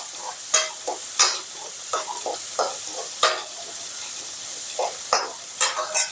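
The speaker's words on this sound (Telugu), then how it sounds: "ఇప్పుడు ఆనియన్స్ అన్నీ దగ్గర ఫ్రై అయిపోయాయి కదా" Onions fry in a pan for a mushroom masala gravy, a loud, continuous hissing sizzle with repeated spatula scrapes and stirs at a loose, uneven rhythm.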